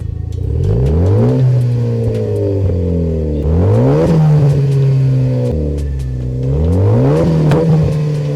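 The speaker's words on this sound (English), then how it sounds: "That's what it sounds like when the car is just running. All right, rev it." A 2020 Honda Accord with a loud aftermarket exhaust revs repeatedly, rising and falling in pitch several times with a deep, raspy rumble, close and loud.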